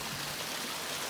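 Water flowing steadily in a pondless waterfall outdoors at a trailhead in Newbury Park, California, a soft, even rushing and splashing, faint and continuous.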